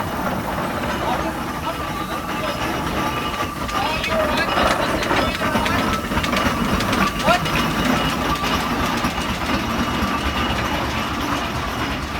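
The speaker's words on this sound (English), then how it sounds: "a Garrett 4CD steam tractor named Pride of Scotland rolls through" A Garrett 4CD steam traction engine rumbles past at close range with steady mechanical clatter and low throbbing, amid busy street noise and crowd chatter at a steam festival in Thirlmere, New South Wales.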